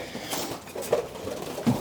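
Pigeons in a loft giving soft, low coos, two or three short murmured calls, close by, over a quiet background.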